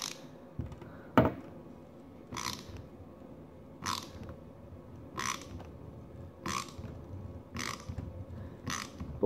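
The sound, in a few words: die cutting threads on a custom boat propeller shaft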